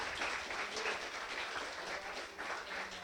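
A church congregation applauds during a sermon, a steady, fairly quiet wash of many hands clapping heard from a distance with no voices over it.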